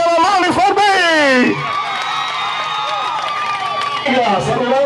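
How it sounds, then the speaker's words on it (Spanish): A crowd at a neighborhood campaign event cheers and applauds for candidate Loli Fermín in Mao, with loud whoops and clapping under an announcer's amplified voice, the cheering swelling again near the end. "aplauso para Loli Fermín"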